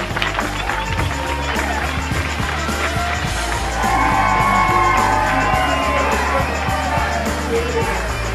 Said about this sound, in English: as they go down the aisle, give them a round of applause